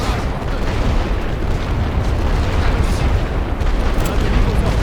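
Mortar explosions in a Great War Western Front trench battle game, a continuous loud roar of blasts and rumbling impacts with no clear gaps, dense and close.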